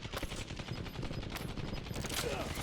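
Gunfire in the video game Warzone, a dense run of rapid automatic shots and bursts, fairly quiet and continuous throughout, with game sounds and some speech underneath.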